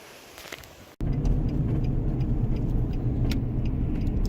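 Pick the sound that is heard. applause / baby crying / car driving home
car driving home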